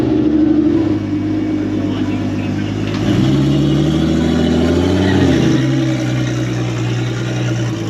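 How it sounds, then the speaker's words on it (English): A Toyota Cressida street car's 2JZ engine revs without an exhaust fitted. It gives a loud, raw, close drone that rises and falls through several throttle blips, with voices faintly underneath. "It sounds way better without an exhaust on it, man."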